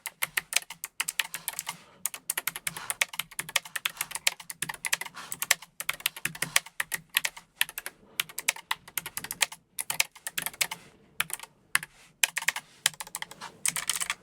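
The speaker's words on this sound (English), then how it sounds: "Now this is a very low profile keyboard. It's blue Kechron switches, low profile though." Continuous rapid typing on a low-profile mechanical keyboard with blue Keychron switches, dense clacking keystrokes with a few short gaps, close up and steady throughout.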